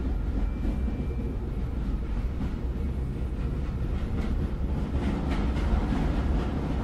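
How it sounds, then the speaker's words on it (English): A passenger train in the video game Grunnd rumbles along in a continuous, fairly loud ride noise, with a dense low roar and light rattling clatter throughout. "this is not your ordinary train, even if it looks like the usual one you take every weekday after work"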